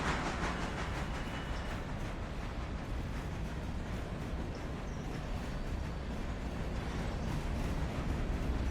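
A long freight train rolls along in the railroad simulation game Railroader, a steady, loud rumble of rail noise that holds evenly throughout with no talking.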